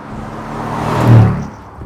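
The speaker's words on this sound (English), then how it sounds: "It sounds like nothing else, like a good naturally aspirated V8" A 2021 Mercedes-AMG GLE 63 S Coupe's V8 swells past at close range, a loud throaty roar building to a peak and easing off within a couple of seconds.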